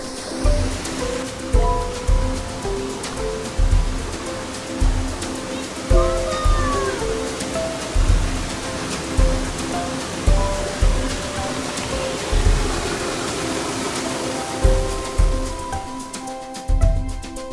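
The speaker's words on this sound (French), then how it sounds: "on va passer sous les cascades de Dougen." Steady rushing water fills the whole stretch, the dense continuous roar of the Düden waterfalls near Antalya, Turkey, heard from close by, with faint tonal sounds and voices drifting through the background.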